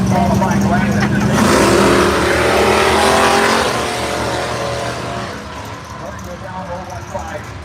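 A 1982 Chevrolet Camaro drag car with a 383 cubic inch small block Chevrolet makes its qualifying pass at a winter drag racing series, its engine roaring loud and full before fading into the distance, with an announcer talking over it throughout.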